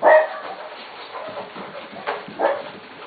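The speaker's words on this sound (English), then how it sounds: "It's our mommy barking." A corgi barks a few times, sharp yaps spaced unevenly, fairly close, with a whiny edge between them.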